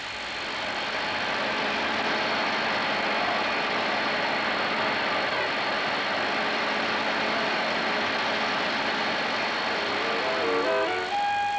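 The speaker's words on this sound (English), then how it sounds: "99 engines out of 100 are test run on gas for a period equivalent to 150 road miles" A Rolls-Royce petrol engine runs on a test bed at a steady, dense drone with a mechanical rattle, continuous and fairly loud, with no talking.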